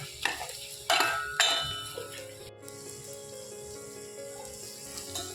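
A tadka of spices for dal crackles in hot oil, opening with a few sharp stirring scrapes and then settling into a soft, steady sizzle with no talking.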